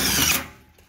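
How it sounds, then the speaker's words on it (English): Power drill boring holes through the joints of a metal stack pipe for a backyard maple-syrup evaporator, a brief loud whir that winds down quickly, close by. "we'll finish drilling at each joint"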